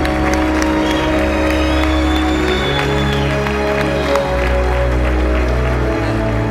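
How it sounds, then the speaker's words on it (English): A gala audience claps for Ellis Island Medal of Honor recipients, dense applause mixed with crowd noise and a low sustained musical tone underneath, loud and continuous throughout. "Let's have a round of applause for all of our medalists tonight."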